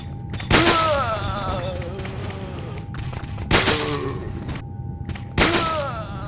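In Resident Evil: Dead Aim, a silenced handgun fires headshots at a standard zombie: three loud, sharp impacts spaced a few seconds apart, each trailing off in a ringing, groaning tail.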